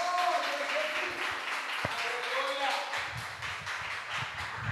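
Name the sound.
congregation applause in church service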